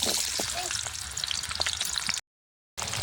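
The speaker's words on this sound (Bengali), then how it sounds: "তেলটা আমার গরম হয়ে গেছে, তারপরে আলুগুলো দিয়ে দিব।" Potatoes sizzle loudly in hot oil in a wok while a duck curry is being cooked, a dense steady crackle with small pops that stops abruptly for a moment near the end before resuming.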